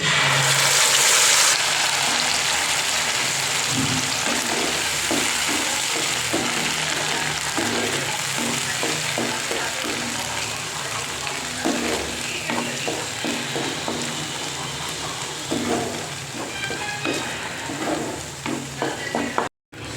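A spice paste fries in hot oil with nigella seeds in a pan, a loud continuous sizzle broken by repeated scraping and stirring strokes, close up and without speech.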